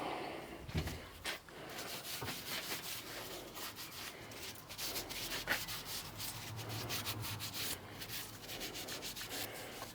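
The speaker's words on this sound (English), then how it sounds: "Rub some linseed oil in, it'll make it look better." A cloth rubbing linseed oil into a wooden leg vice gives a steady, soft scrubbing sound with quick back-and-forth strokes, close but quiet, continuing throughout.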